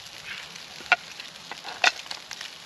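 Meatballs fry in a small Trangia pan on a camping stove at a wild camp, giving a soft, steady sizzle with a couple of sharper spits and pops, heard alone at close range.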